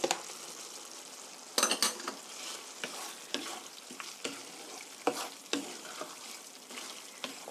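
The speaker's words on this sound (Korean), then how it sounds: "이렇게 돌릴 수는 없으니까 흔들어 주세요" Penne in tomato sauce with olive oil is tossed in a shaken pan, making a soft wet sizzle broken by repeated clatters of pasta and metal as the pan is jostled, with no voice.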